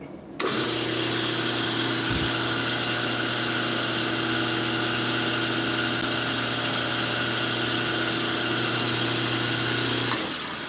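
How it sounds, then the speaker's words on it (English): The electric motor of a bezel forming press runs close by, a loud constant hum with a steady drone that starts abruptly and holds for about ten seconds before cutting off, with no voices. "this is going to be electric. You are right by the motor, so it's going to be loud"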